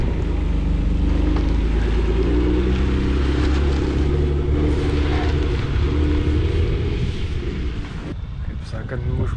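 Go-kart engine droning loudly through a drift attempt at an evening karting session with friends, a steady low rumbling roar with shifting pitch that carries throughout, easing slightly near the end, with voices faintly mixed in.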